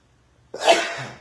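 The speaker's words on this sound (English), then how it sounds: "nothing like a good sneeze right in the middle of your morning message" A single loud, close sneeze bursts out after a brief quiet, trailing off into a breathy release.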